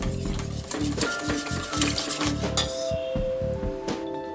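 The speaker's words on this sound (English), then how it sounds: "stir it" Rice cake batter being stirred in a bowl, a steady run of soft, rhythmic scrapes and clinks at close range, fairly quiet and without talk.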